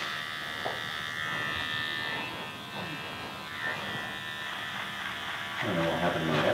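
Electric hair clippers buzz steadily at a barbershop during a classic fade haircut, a close continuous drone that swells near the end, with voices talking under it.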